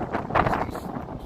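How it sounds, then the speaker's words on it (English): Strong wind buffets a microphone on a Chicago street by Lake Michigan on an October morning, a rough rumbling roar that swells and fades without a break. "it's very windy here"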